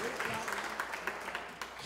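Church congregation clapping together for Jesus during a Portuguese-language sermon, a dense steady patter of many hands filling the space, with voices mixed in underneath.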